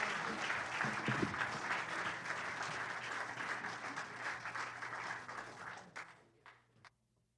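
Concert audience applauds musicians after a performance, sustained, fairly soft clapping from many hands with a brief voice early on, thinning into a few last scattered claps before fading out.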